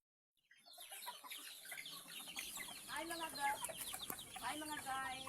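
Chickens cluck and squawk repeatedly at close range in a yard setting, with several bird calls overlapping and continuing steadily throughout after a brief quiet start.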